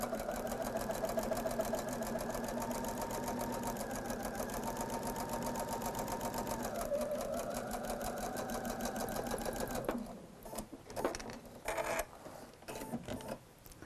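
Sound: sewing machine stitching a quilt seam

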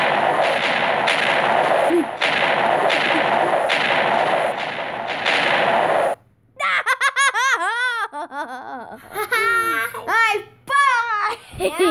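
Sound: TNT blocks exploding in a video game

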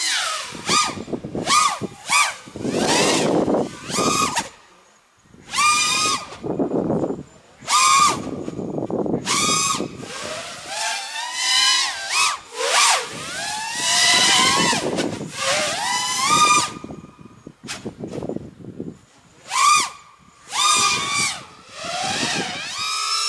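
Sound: drone motors during line-of-sight flight

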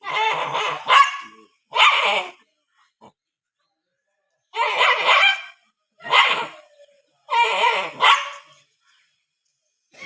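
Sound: dog barking

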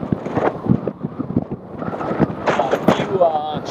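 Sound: strong wind

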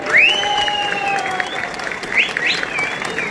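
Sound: rally crowd applause

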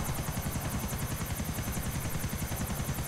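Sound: helicopter flying in Grand Theft Auto IV video game

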